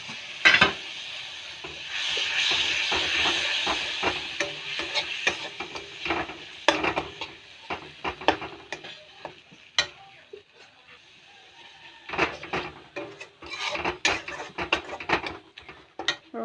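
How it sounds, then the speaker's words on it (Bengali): Spice masala of cumin, chili and coriander fries in a pan with a little water, sizzling loudly while a spoon scrapes and knocks against the pan in quick, irregular strokes, close by. "মরিচ ধনিয়া সামান্য জল দিয়ে দিব মশলাটা কষাবার জন্য"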